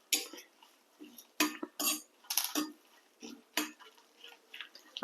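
Dry-roasting red chilies and curry leaves in an oil-free pan, with intermittent light scraping and rattling of a spatula against the pan, brief clustered bursts separated by short quiet gaps.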